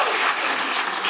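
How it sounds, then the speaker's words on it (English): Brief, steady applause from an audience at a comedy show, a short burst of clapping without talk. "Round of applause for Bruce Lee and the chocolate milk"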